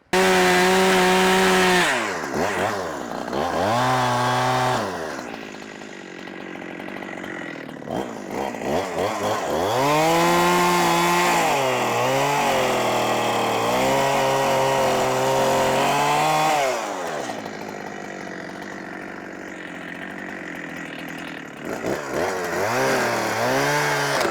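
Chainsaw plunge cutting a hard-leaning tree, its loud close engine revving and bogging repeatedly as the bar bites into the wood, with pitch rising and dropping over a long continuous cut.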